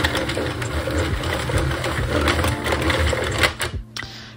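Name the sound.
Sentro circular knitting machine being cranked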